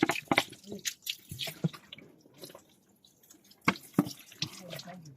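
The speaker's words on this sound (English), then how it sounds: "We're just gonna wash the excessive brake fluid that was dropping with water." Water splashing and dripping onto a Nissan Almera to rinse off spilled brake fluid during clutch slave cylinder work, irregular wet spatters and drips close by, with a voice briefly heard.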